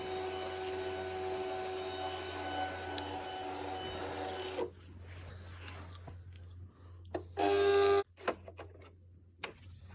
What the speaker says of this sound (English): Now I've got the second half of the name printing out